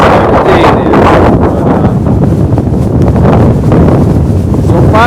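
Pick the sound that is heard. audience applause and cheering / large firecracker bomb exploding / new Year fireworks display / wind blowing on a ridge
wind blowing on a ridge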